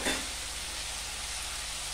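Coriander stems fry with a turmeric-spiced ground masala for a homestyle chicken curry, giving a steady, even sizzle close by with a slight burst at the start and no talking.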